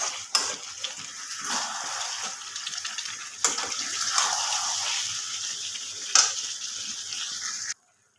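Chicken meat being sautéed in a pot produces a dense, hissing sizzle with scraping stirs and sharp spatula knocks, loud and close, ending in a brief cut to silence.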